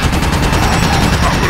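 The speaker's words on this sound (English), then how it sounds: "let's see if we can just gun him down with this quickly" Rapid automatic weapon fire from Ratchet: Deadlocked rattles continuously at close range, loud and steady with evenly spaced shots throughout.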